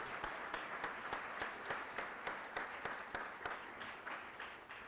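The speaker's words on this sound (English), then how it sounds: "a round of applause for all the students who had the courage to take part in this year's" Audience applause for students at a school oratorical contest, moderately distant clapping with a few sharp, individually distinct claps standing out rhythmically over a steady patter.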